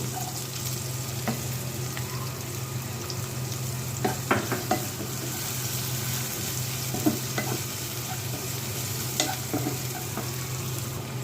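Carrots sauté in a pan with a steady sizzle over a low hum, and a utensil scrapes and clicks against the pan now and then.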